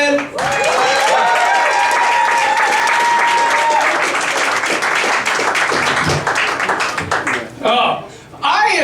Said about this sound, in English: make it loud for Cavin Eggleston